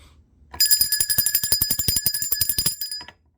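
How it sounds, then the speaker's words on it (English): A bell rings once with a bright, sustained metallic tone, struck in a rapid rattling series of hits for about two and a half seconds before fading, close and fairly loud with no talk. "let me ring the bell"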